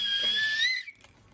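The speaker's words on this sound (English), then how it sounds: "Then we have this whistle." A small survival-kit whistle gives a single shrill, steady blast lasting under a second, close and loud, with its pitch rising slightly before cutting off into near silence.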